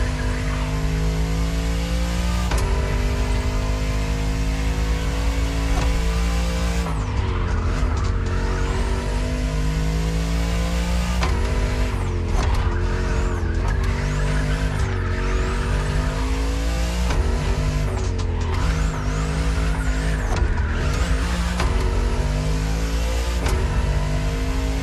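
French luxury hypercar with four-figure horsepower driving in The Crew Motorfest, a loud steady engine drone with rising and falling revs and gear shifts, heard alone without talk.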